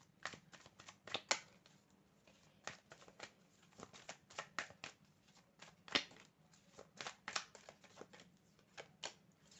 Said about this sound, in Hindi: let me shuffle